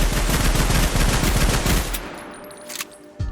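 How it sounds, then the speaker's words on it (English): A rapid burst of automatic gunfire from a light machine gun in a modded Minecraft Bedrock game, loud and dense for about two seconds and then cutting off, followed by quieter mechanical clicks. "let me just fire an entire clip really quick"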